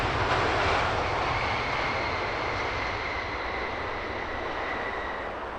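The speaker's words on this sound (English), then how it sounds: "Beautiful Thai Airways 777 touching down in front of us." A Thai Airways Boeing 777 touches down at London Heathrow Airport, and its loud, broad jet-engine roar holds steady with a faint whine riding on top before slowly easing off.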